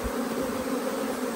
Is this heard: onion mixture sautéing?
no